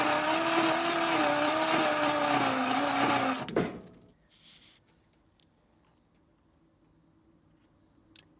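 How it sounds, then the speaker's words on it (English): A 1964 Ford Galaxie V8 that sat for 30 years, cranked over by the starter with the spark plugs installed: a loud, steady whirring crank for about three seconds that cuts off abruptly, then near silence with a faint click. "I'm just gonna turn it over with the plugs in it and see if we have anything resembling compression."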